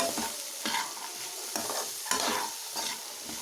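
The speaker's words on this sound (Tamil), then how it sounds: "இப்போ குக்கரில் வேக வச்ச வேர்க்கடலையை சேர்த்துக்கோங்க சேர்த்துட்டு மாதிரி நல்லா கலந்து விட்டுக்கோங்க" Boiled peanuts are stirred in a hot pan, with a spoon scraping in repeated rhythmic strokes about twice a second over a light sizzle.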